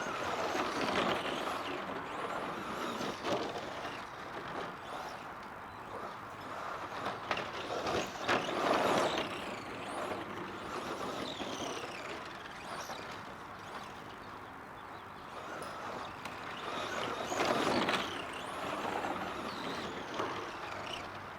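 A Team Associated Pro SC10 Rockstar Edition RC short-course truck runs steadily, its motor giving a constant broadband whir with surges and fades as it drives nearer and farther, with no talking.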